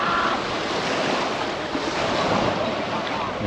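Ocean waves washing onto a beach at Lifou, a steady close roar of surf with broadband hiss and some wind buffeting the microphone, continuous throughout with no clear break.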